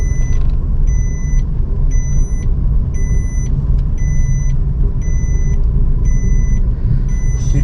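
A car's seat belt warning chime beeps steadily, evenly spaced tones repeating about every second inside a cab, over a constant low engine and road rumble.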